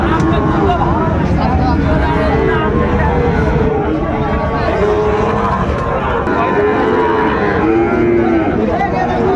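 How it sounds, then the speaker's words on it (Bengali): A Sahiwal bull calf moos repeatedly in a loud, crowded cattle market, its calls rising over steady crowd babble and nearby voices. "কোয়ালিটি সম্পন্ন ষাঁড় বাচ্চা।"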